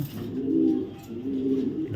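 A male racing pigeon, a BRPFC club racer, gives two soft, low cooing phrases close by, each swelling and fading over about a second with no voices.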